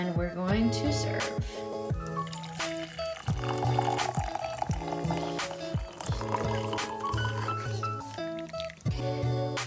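French press coffee is poured out to serve, a soft liquid stream running steadily under loud background music.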